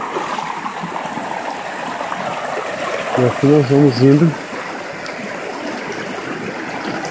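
A river stream rushes steadily around someone wading upriver toward the seventh waterfall in Urubici, a constant close flow with a short spoken phrase in the middle.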